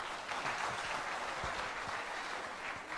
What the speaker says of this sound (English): Our friends, we need a bigger hand of applause.